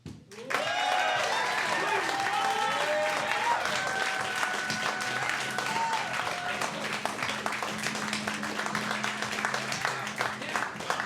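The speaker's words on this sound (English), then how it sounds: "So please give a big round of applause for Chuck Ringwald." Studio audience applause for a guest, an Emmy-winning news anchor, as he comes out: dense, sustained clapping from a crowd with cheers and whoops on top and music playing beneath, holding steady for about ten seconds.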